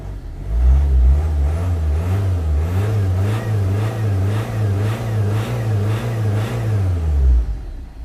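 A Land Rover Freelander TD4 diesel engine with a limp-mode fault is revved hard and held high, a loud steady drone with a wavering pitch for about seven seconds before it drops back to idle.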